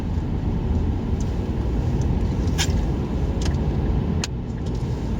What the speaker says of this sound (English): He's testing his car.